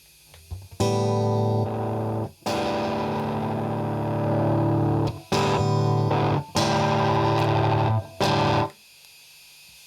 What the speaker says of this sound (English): We have distortion.